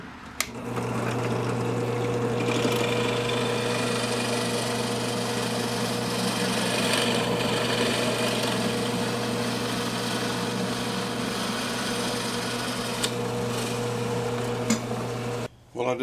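A steady, loud mechanical whine of a power drill boring a 3/4-inch hole into wood with a Forstner bit, running continuously for about fifteen seconds before cutting off near the end.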